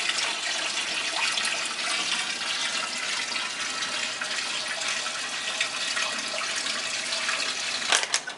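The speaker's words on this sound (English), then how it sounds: "he can get the first bucket of water put into the tank" A bucket of water pours steadily into a home fish tank, a continuous rushing, splashing stream with a brief louder splash near the end.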